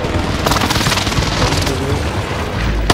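An airstrike detonates in Call of Duty, a sustained rolling roar of heavy explosions and rumbling blasts filling the whole moment, loud and close, with a sharp crack near the end.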